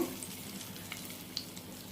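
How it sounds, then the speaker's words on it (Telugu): Urad dal, mustard seeds, cumin, turmeric, curry leaves and hing are tempered in two spoons of hot oil in a pan on the stove. A faint, steady sizzle is broken by a few light pops. "కరివేపాకు ఇంగువ అన్నీ వేసి పోపు పెట్టుకోవాలి"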